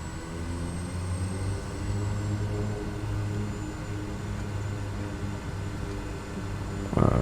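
Steady drone of a Kodiak 100 propeller plane taxiing in Microsoft Flight Simulator 2020, a continuous low hum with a faint high whine, ending in a short louder burst.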